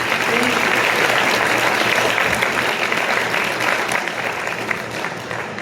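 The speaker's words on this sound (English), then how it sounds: "A big round of applause, please." Audience members at the Women Aces awards breakfast applaud a scholarship recipient with thick, sustained clapping that stays full throughout and eases slightly toward the close.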